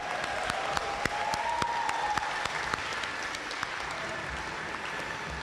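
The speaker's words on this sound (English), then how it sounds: "Let's give him another round of applause." An audience at a community gathering claps steadily, a fairly even patter of many hands with a few sharper individual claps standing out.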